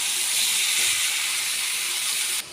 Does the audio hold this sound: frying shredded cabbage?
yes